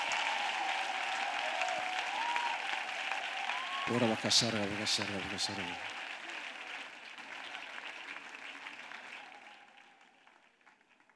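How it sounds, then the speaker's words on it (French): A church congregation applauds during a worship service, continuous crowd clapping that gradually fades toward the end, with a brief spoken phrase cutting through midway. "Offrande d'acclamation pour Jésus. Clap for Jesus."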